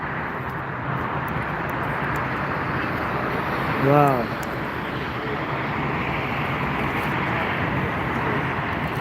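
Jet airliner departing Frankfurt Airport, a steady broadband roar of engines holding throughout at moderate distance, with a brief voice exclaiming midway.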